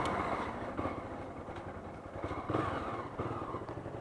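A Honda CB 300 motorcycle engine runs with a steady, low, throbbing idle and slight clatter, close and continuous, with no talking over it.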